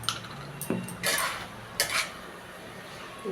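A spatula clinks and scrapes in a pan while banana flower curry is stirred, a few quick strokes up close over a low background hiss, without speech.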